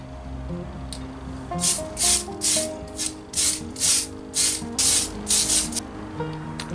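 Aerosol spray paint hisses in about nine short, even bursts as green coats go onto a clear Lexan polycarbonate body and wing for a Tamiya Hotshot RC car, close and fairly loud.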